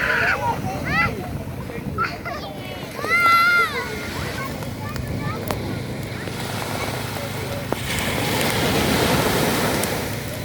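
Gentle, small ocean waves wash onto a beach in Aceh in a steady, rushing surf with a gust of wind. Children's voices and shouts rise over it nearby.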